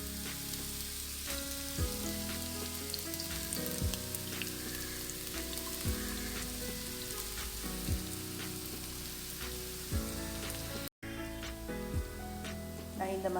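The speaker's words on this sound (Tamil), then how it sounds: "நல்லா ஃப்ரை ஆகட்டும்." Onions sizzle steadily in a pan with cardamom and cinnamon for an egg curry, a soft continuous hiss broken by periodic stirring scrapes and clinks, quiet and close.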